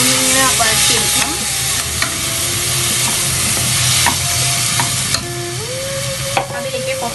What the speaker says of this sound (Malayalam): നെയ്യിലൊന്ന് ജസ്റ്റ് ഒന്നിങ്ങനെ വഴറ്റിയെടുക്കാം.